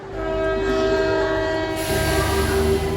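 A Kacheguda–Raichur MEMU passenger train rolls along with a loud, steady rumble while its horn sounds continuously throughout, the running noise growing heavier and brighter partway through.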